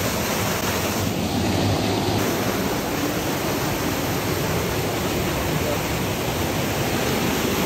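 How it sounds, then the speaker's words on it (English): A small waterfall on a wilderness trout creek roars steadily and loudly up close, a dense continuous rush of falling water with no voices over it. "Look at the power of this waterfall with this tiny stream."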